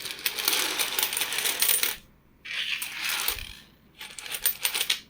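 Indian coins from a collection are handled and dropped, giving repeated close, bright metallic clinks and jingles in bursts separated by brief silent gaps.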